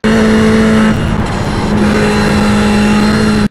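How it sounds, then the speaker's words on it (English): A race car engine at Virginia International Raceway drops from sixth to fifth gear, a loud, close, continuous roar whose tone shifts partway through before cutting off abruptly, with no talking. "keeping it in 6th gear, you can downshift to 5th"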